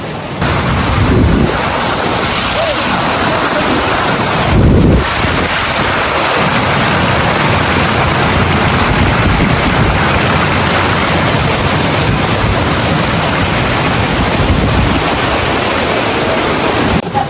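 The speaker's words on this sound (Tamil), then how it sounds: "அம்மாயிலேருந்து அந்த கழுங்கு வழியாக அப்படியே நிரப்பி அப்படியே தண்ணி வந்துக்கிட்டு இருக்கு." Water pours from a village tank through a sluice in a constant, loud, close rushing roar that continues unbroken throughout, with no voices.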